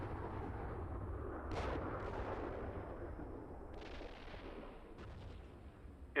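A weapon fires in the armoured combat simulator Steel Beasts Pro PE, giving a loud, booming launch over dense battle rumble, with further sharp reports following.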